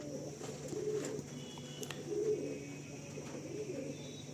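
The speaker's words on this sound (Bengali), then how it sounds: "এই আমার এক জোড়া রেগদার পায়রা দেখুন" Madrasi and Andhra pigeons in a loft at Madhyamgram give a few soft, low coos that repeat every second or so, moderately close, over a faint steady hum and an occasional small chirp.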